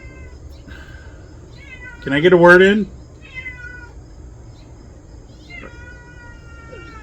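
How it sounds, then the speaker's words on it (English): A cat gives one loud, drawn-out meow close by, with a person talking quietly around it. "here comes the cat to argue with me."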